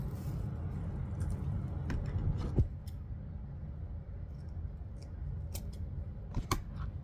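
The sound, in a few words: scissors cutting ribbon for a DIY bow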